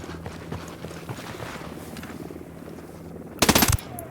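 A short, loud burst of automatic gunfire rings out in the tactical shooter Ghost Recon Wildlands. It follows a stretch of quieter ambient game noise and light footsteps, then cuts off after a fraction of a second.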